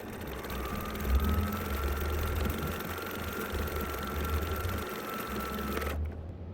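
A sewing machine stitching free-motion appliqué runs steadily with a close, continuous motor whir and rapid needle clatter for about six seconds, then stops abruptly.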